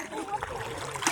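Cold, clear lake water splashes softly as someone wades near the shore, with faint trickles and small sloshes and a brief stronger splash at the end.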